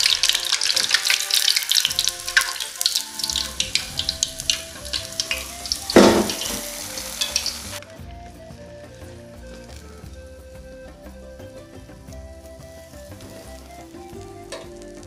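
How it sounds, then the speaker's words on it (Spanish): Empanadas de mejido sizzle in hot oil with a dense, close crackling hiss and a loud burst partway through. The frying stops abruptly halfway, and quiet music carries on alone. "Y comenzamos a freír las empanadas."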